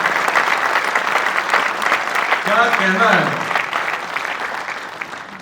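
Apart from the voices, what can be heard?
audience applause at poetry recital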